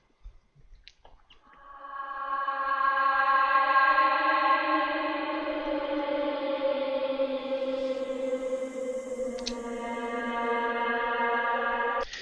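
Long, smeared drone of a voice stretched tenfold in Paulstretch far beyond recognition into layered sustained tones, swelling in and holding steady with a faint echoing shimmer.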